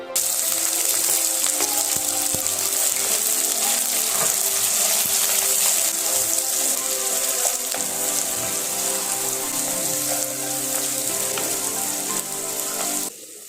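Onions sautéing in oil for a village-style Tamil fish curry, a steady close crackling sizzle with faint clinks running throughout, no talk.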